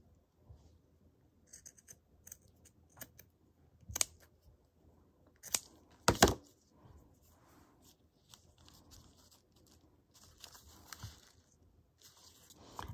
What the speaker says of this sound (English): I have this doily. I'll just trim like a portion of it.